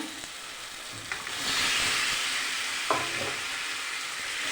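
Meat being fried and stirred with spices, turmeric and tomato sauce in a pan for a Bengali meat curry, giving a steady close sizzle with scraping stir strokes throughout and no talking.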